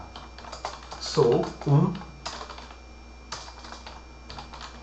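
Rapid clicking on a computer keyboard while writing VB .NET code, the keystrokes coming in quick bursts and pauses, with someone speaking briefly in Portuguese partway through.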